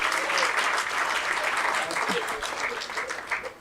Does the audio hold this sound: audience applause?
yes